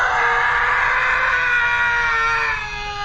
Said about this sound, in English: It's the Howie scream.